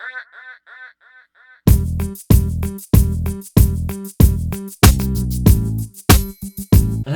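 A duck's rapid run of nasal quacks opens a song remix, then heavy, punchy rhythmic music hits take over loudly, with no talking.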